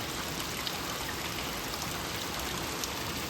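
Torrential thunderstorm rain pours down steadily in Westland, Michigan, with streets flooding and water pooling on a walkway. A dense, even hiss of heavy rainfall continues throughout, with no voices.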